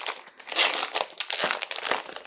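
Crinkly plastic wrapper of an American surprise wafer is torn and pulled open up close, a dense run of sharp crackles and rustles lasting a couple of seconds.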